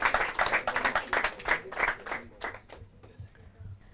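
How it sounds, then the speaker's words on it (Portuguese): An audience at a Portuguese quiz event breaks into a short burst of clapping that starts full and gradually thins out, with a voice speaking briefly underneath. "Palmas para eles."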